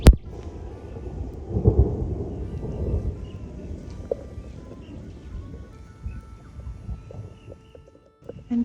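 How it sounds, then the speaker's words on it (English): Thunder from an approaching storm over an off-grid property in Australia: a low rolling rumble swells early, then fades into a quieter outdoor murmur with scattered small sounds. "You won't like it when it starts to thunder."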